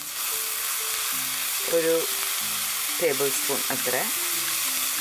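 Ginger, garlic and chilli sautéing in a pan while chicken bread rolls are made, a close steady sizzle running under someone speaking Malayalam.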